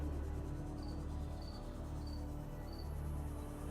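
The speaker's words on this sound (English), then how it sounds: "I wish these crickets that I got were not of the noisy variety" Pet crickets kept indoors chirp in a steady series of short, evenly spaced trills over a low background hum, close and fairly clear with no talking.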